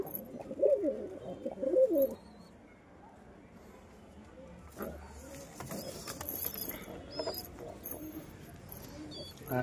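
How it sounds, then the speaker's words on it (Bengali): Young Giribaz desi pigeons give soft, close cooing in two short bursts at the start, followed by quieter rustling and scattered faint sounds while a person talks nearby. "দেশি কবুতরের বাচ্চাগুলো, গিরিবাজ দেশি"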